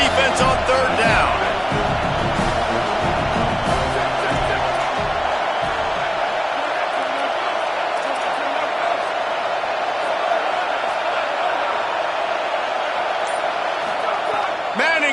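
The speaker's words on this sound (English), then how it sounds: "Trying to quiet this crowd." A loud stadium crowd roars steadily through a football game as the defense lines up on third down, with a brief burst of percussive thumps and shouts early before the sustained wash of cheering continues alone.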